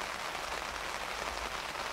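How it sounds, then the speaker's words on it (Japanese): Steady rain falls at night on a solo campsite behind a factory, an even, dense hiss of drops that continues throughout with no voices. "今日はね、外鹿がうろうろしてるんで、雨降ってきたんで多分どっか"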